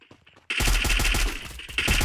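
Rapid automatic rifle fire in a shooter video game tournament match, a loud, dense burst of shots that starts abruptly after a brief quiet moment and keeps going close up, with no voices.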